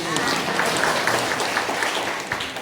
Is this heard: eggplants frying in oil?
no